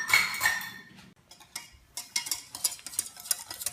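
Cocoa powder, milk and sugar are stirred together for chocolate pudding, a utensil scraping and clinking against the bowl in quick, uneven strokes at close range, with no talk.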